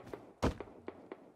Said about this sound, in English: Who's banging on a tree?